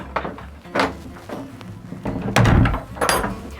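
Sailboat ensuite doors being swung shut, giving several soft wooden thumps and knocks close by, with one louder clunk near the middle, in a small cabin interior.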